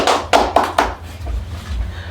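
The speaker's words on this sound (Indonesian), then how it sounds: "Tepuk tangan untuk Angelin dulu." Four quick, loud claps from a small group in a classroom for a student in a math teaching simulation, spaced about a quarter second apart, then fading into low room rumble.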